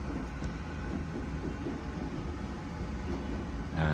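A RAKU Limited Express train pulling out of Osaka, a steady low rumble of wheels on rail at an even level with no voices.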